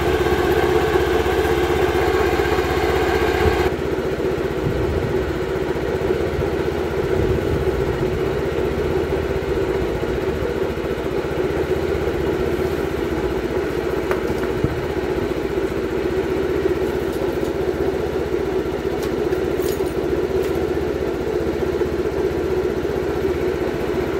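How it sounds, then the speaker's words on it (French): A Yamaha XTX motorcycle engine runs at a steady, fairly loud idle for a long stretch, a brief higher revving section at the start settling into an even low chugging rumble with no talk. "on va aller de l'autre côté pour la XTX que je vais essayer de démarrer"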